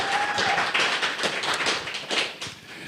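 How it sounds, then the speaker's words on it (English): A crowd applauds, many hands clapping together in a dense, continuous patter that stays loud throughout. "Let's give Evan a round of applause for the information that he shared."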